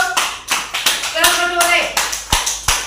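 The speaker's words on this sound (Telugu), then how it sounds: "ఫస్ట్ కొట్టండి క్లాప్స్" Children clap together in a classroom, about nine sharp claps in a steady rhythm, loud and close, with a voice speaking over them.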